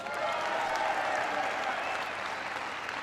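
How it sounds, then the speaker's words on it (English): A large audience at a presidential speech on manufacturing in the Cleveland area bursts into sustained, loud applause, dense clapping from the crowd filling the whole stretch without a break. "Give him a big round of applause."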